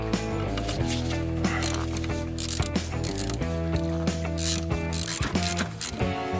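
A ratchet socket wrench tightening a mechanical fuel pump on an old Dodge Cummins diesel, loud close clicking strokes back and forth in a steady rhythm over faint metallic ringing, no speech.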